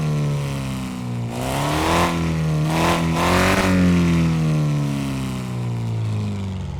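A Nissan 370Z Nismo engine in Car Mechanic Simulator 2026 revs up from idle in a rising sweep, holds a high roaring pitch, then falls back to a steady idle, loud and close.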